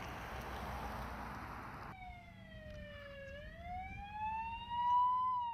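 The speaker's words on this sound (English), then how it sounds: "When an emergency vehicle approaches from behind with lights and sirens" A wailing emergency siren rises and falls in pitch, growing louder as it approaches, over steady road noise from passing traffic.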